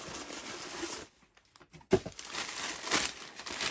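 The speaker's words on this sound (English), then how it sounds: "All right, wrapper paper." Wrapping paper crumpled and crinkled while a box is unboxed, a burst of dry rustling, a brief near-silent pause, then a sharp crackle and renewed loud crinkling close to the microphone.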